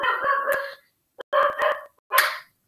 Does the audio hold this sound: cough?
no